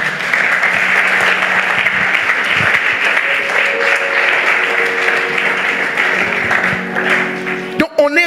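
A church congregation applauds in a steady, dense wash of clapping throughout, with some cheering voices mixed in and a brief loud clatter near the end.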